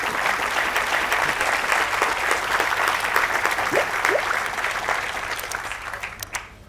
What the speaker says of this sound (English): can I get a round of applause for our host, Marianne Seacott